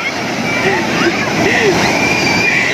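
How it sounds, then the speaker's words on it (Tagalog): Ocean surf at La Union beach, a steady loud wash of breaking waves with voices and children's calls mixed in throughout. "Grabe yung alon."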